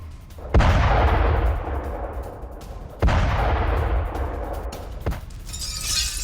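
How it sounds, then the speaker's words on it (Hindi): A Russian tank struck by a Ukrainian drone explodes in the Kursk region: three heavy, sharp blasts spaced a few seconds apart, each followed by a decaying rumble. "बड़े धमाके के बाद आग के गोले में तब्दील हुआ टैंक।"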